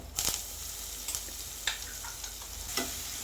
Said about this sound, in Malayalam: അതിൽ കുറച്ച് വേപ്പലിയും ഉള്ളിയും മുളകും കൂടി ചതച്ചതും കൂടി ഇട്ട് നല്ല പോലെ മൂപ്പിച്ചെടുക്കുകയാണ്